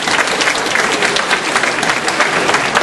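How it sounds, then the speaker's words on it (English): An audience at a public debate on a Peace River nuclear project gives a loud, sustained round of applause, dense clapping rolling evenly from start to finish with a few crowd voices mixed in. "So give yourself a big round of applause."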